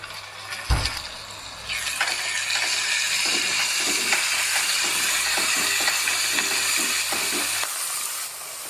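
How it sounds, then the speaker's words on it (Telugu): Chopped green chillies, mint and coriander sizzle and fry in a pan for paneer curry, a steady, loud crackling hiss with stirring scrapes, starting with a brief clunk as the ingredients go in. "తర్వాత పుదీనా, తరిగిన కొత్తిమీర కూడా వేసి బాగా ఫ్రై చేయండి."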